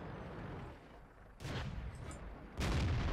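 Tank cannon fire in the video game World of Tanks: two fairly quiet booming shots about a second apart over a steady low rumble of engine and battle ambience.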